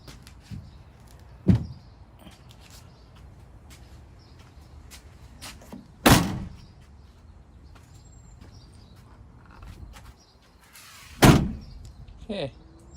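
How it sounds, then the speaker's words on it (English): A Sprinter campervan fitted with a custom bug screen has its sliding door worked, giving three separate loud thuds and slides spread apart, with quiet rustling between them. "let's try closing the door."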